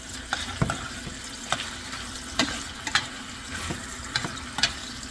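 Salchichón (Dominican salami) sizzles in hot oil alongside sautéing onion, a constant close crackle punctuated by sharp spatula clicks and pops at irregular intervals.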